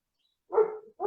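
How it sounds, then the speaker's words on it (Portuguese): A dog barks indoors, one full bark followed by a second cut-off bark, close and distinct against silence. "Deixa eu mandar os cachorros calar a boca."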